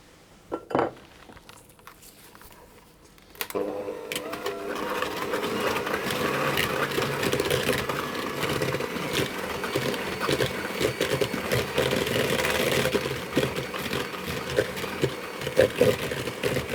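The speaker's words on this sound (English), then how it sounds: "I'm going to cream those together using my hand mixer until it's nice and pale and fluffy" A hand mixer creams butter, sugar and lemon zest in a bowl, starting with a few clinks before a steady, close whirring buzz with rattling beaters runs continuously to the end.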